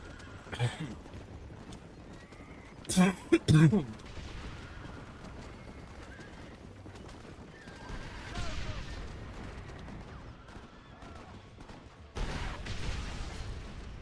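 Horses whinny and hooves clatter in the Red Dead Redemption video game, with sharp gunfire bursts early on and rumbling action noise later, all fairly quiet in the mix.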